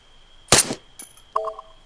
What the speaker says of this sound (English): I'm gonna have to shoot him like this.